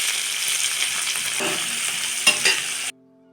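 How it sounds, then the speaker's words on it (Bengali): Onion frying with ginger, garlic and green chilli paste for dal tadka, a steady close sizzle with stirring scrapes for about three seconds before stopping abruptly. "পেঁয়াজটা একটু লাল লাল করে ভেজে এতে আদা বাটা, রসুন বাটা, কাঁচা লঙ্কা বাটা সব একসাথে দিয়ে দিল"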